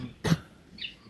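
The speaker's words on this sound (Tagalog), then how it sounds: "Tigas ng ubo." A single sharp cough from one person, fairly close and loud, standing alone against a quiet background with a faint high chirp shortly after.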